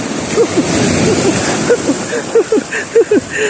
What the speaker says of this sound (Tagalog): may malaking alon